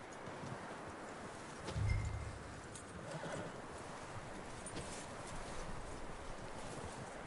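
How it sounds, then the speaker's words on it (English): Hooves clop steadily in Red Dead Redemption 2 over a low outdoor ambience, with a brief louder snort or whinny near the start; no one speaks. "That looks like a decent horse."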